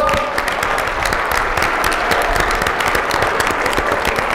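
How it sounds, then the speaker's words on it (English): Conference attendees at a national CEO gathering give themselves a round of applause, a thick, sustained burst of many hands clapping close and loud, with crisp individual claps standing out across the whole stretch. "give yourselves a big round of applause"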